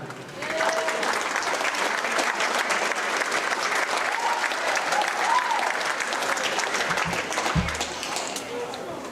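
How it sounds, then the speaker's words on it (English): Audience at a Minnesota boys high school wrestling triangular meet in Aitkin applauds the wrestlers' parents, steady broad clapping filling the whole stretch, loud and continuous after a brief quiet start. "let's give our parents a round of applause"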